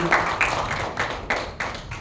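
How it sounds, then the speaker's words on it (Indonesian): Clapping from an audience at a company profile presentation: a run of about six close, separate bursts of claps with steady room noise between them. "tepuk tangan untuk Ibu Yati Sumarni"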